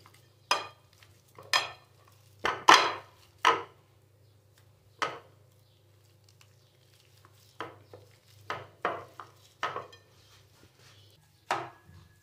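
Boiled potatoes are mashed by hand in a bowl, giving a series of soft, close thuds and squelches at irregular intervals against a quiet background.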